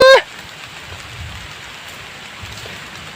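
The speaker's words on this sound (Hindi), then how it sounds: "देखो बारिश गिर रही है" Steady rain patters on surfaces in a continuous hiss after a brief voice at the start.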